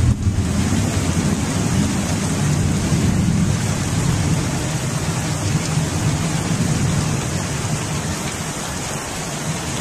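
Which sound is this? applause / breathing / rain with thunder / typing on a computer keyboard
rain with thunder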